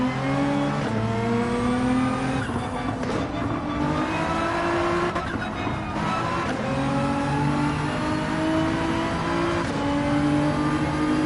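A race car engine in the Gran Turismo 7 racing game, on the Grand Valley circuit, revs hard and continuously, its pitch rising and falling through throttle blips and gear changes, loud and steady with no talk.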